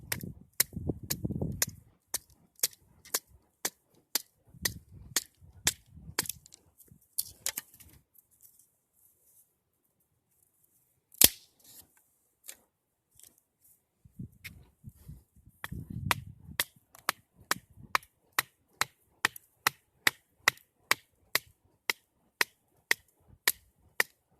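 Wood being broken up into kindling to prepare a campfire: a long series of sharp snapping cracks in steady rhythm, a brief quiet gap midway, then more crisp regular snaps with some rustling handling between them.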